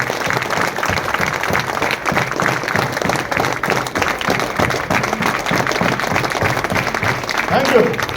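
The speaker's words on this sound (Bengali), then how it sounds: "সবাই জোরদার হাততালি দেবেন" Seminar audience in a municipal hall clapping together in a steady, rhythmic burst that carries on for several seconds, with voices talking over the applause.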